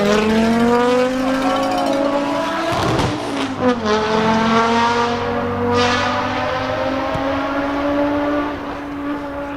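A race car with a side exhaust at Pikes Peak sends out a loud, sustained engine note whose pitch climbs, dips briefly around a sharp pop, then climbs again before easing off.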